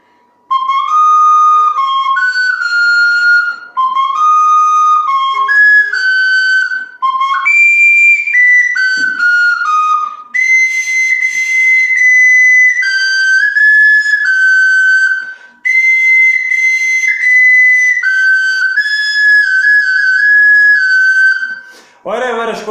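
A Sicilian friscaletto, a small cane flute, plays Happy Birthday solo in bright, clear, whistle-like phrases. The melody is close and loud, with short breaths between the lines.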